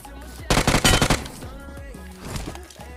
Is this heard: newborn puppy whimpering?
no